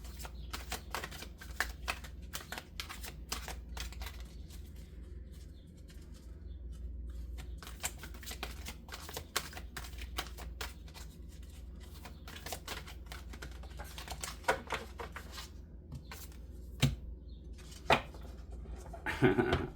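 Oracle cards are shuffled in a quiet room, a continuous rapid patter of crisp card flicks and riffles at close range with a low steady hum underneath, no talking.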